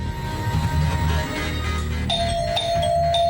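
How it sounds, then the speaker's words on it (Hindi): A doorbell rings repeatedly, giving three clear chimes in quick succession over a low background hum. "अरे इतनी घंटी क्यों बजा रहे हो भाई?"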